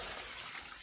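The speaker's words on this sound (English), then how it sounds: "So there are different ways of watering your plants." Potted plants in a Jamaican garden are watered by hand, water pouring and gurgling into the soil in a steady, moderately quiet rush with no one talking.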